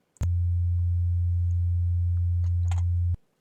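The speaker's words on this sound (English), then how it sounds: "just a sine wave at the moment" A steady pure sine tone from the Generator FM synth on an Amiga, held loud and unchanging for about three seconds before cutting off abruptly, with a few faint clicks near the end.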